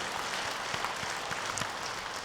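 Applause from a church congregation at the close of a Sunday worship service, a steady wash of many hands clapping at moderate distance with no voices over it.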